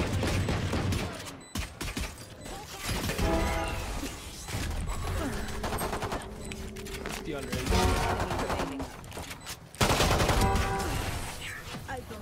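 Gunfire in the video game Valorant rattles in repeated bursts throughout, mixed with game effects and clatter, while players talk over the action.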